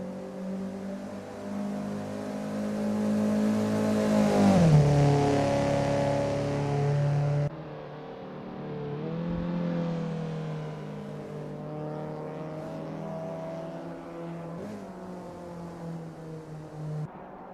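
A race car engine in the Assetto Corsa game, driven round Goodwood's historic circuit, revs loudly and rises in pitch, then drops on a shift and climbs again with a steady droning tone.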